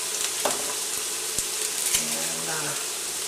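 Fresh garlic added to a hot pot for marinara sizzles with a steady close frying hiss, a few soft clicks and stirring taps over it.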